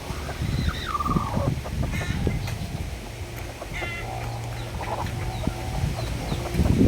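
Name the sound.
hen clucking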